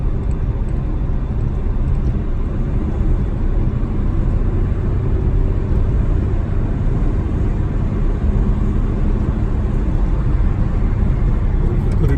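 A vintage Graham automobile cruises in an overdrive gear at 35 to 40 miles an hour, giving a steady, close, low engine rumble with continuous road noise and no clear changes.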